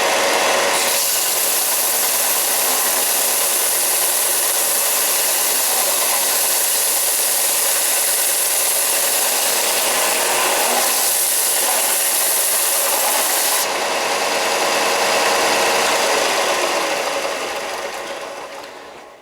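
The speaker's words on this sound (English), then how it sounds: "a 4-inch sander" A 4-inch sander grinds and mills a steel knife blade, making a loud, steady, high-pitched whine with a rough grinding hiss that holds for close to twenty seconds and then fades. No one talks.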